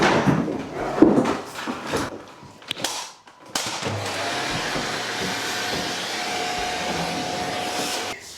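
A small Hoover vacuum cleaner runs with a steady whirring drone from about three and a half seconds on, after a stretch of bumps and handling noise, fairly close and continuous without talk.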